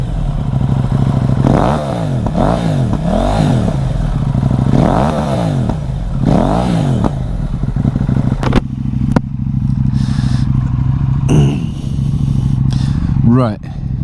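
A KTM 790 Duke motorcycle fitted with a booster plug is ridden, its engine rising and falling through repeated revs and gear changes, close and loud, with clattering and wind noise and some talk over it.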